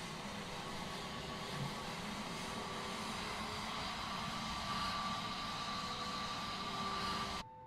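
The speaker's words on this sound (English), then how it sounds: "you can really hear that engine starting" Airbus A320neo engine spooling up in a flight simulator, a steady broadband jet roar with a faint rising whine, loud and continuous before cutting off abruptly near the end.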